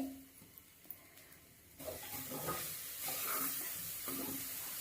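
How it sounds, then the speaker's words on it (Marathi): Chopped jaggery hits coconut roasted in ghee, starting quiet then breaking into a soft, steady sizzle and hiss with light stirring scrapes, close and faint. "आता त्यामध्ये बारीक कापून घेतलेला गूळ घालायचा आहे"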